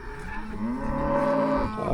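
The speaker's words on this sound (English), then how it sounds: "Hey, little Mashona right here. Last year's heifers." A young Mashona cattle heifer in a farm pasture gives one long, steady moo, close and clear, alone without talk.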